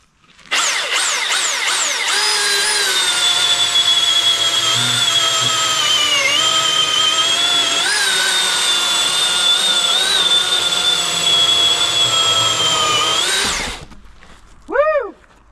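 A battery chainsaw with a 20-inch bar cuts through a log, a loud sustained high whine that runs steadily for about thirteen seconds, wavering slightly under load, then winds down with a brief final rev.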